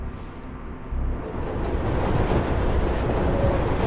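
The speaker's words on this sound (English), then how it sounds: "Let's hang out here and wait for the train to pass by again." A train in the video game Mirror's Edge rumbles past close by, with a low rolling roar that jumps up after a second and stays loud and steady.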